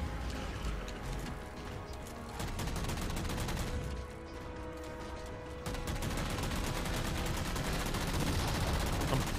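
Mantis mech weapons firing in Halo 4, rapid sustained bursts of automatic gunfire with heavy mechanical impacts, loud and dense throughout with a slight rise in intensity toward the end, without any speech.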